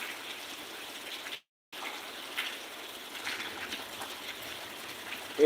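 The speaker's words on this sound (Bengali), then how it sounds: "প্রচুর বৃষ্টি এদিক প্রচুর বৃষ্টি" Heavy rain pours in a steady, even hiss that briefly cuts out, then continues at the same strength.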